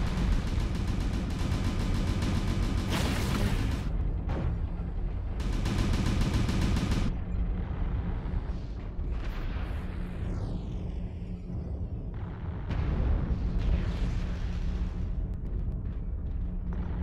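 Missile explosions and weapon fire in MechWarrior Online, loud bursts of blasts and rumbling booms in clusters, separated by quieter stretches of mech noise.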